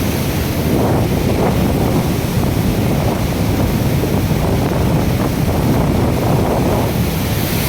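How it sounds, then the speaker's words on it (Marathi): A loud, continuous roar of the flooded Terna River rushing near a bridge fills the whole stretch, steady and broadband, mixed with wind buffeting the microphone. "पाण्याचा प्रवाह एवढा मोठा आहे"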